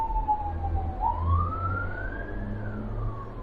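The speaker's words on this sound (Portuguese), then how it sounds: "Deixa eu passar a sirene aqui, que hoje, justo hoje vai passar a sirene." An emergency vehicle siren passing along a busy urban expressway, a single wailing tone that dips and then sweeps slowly upward over steady traffic rumble, fairly close and loud.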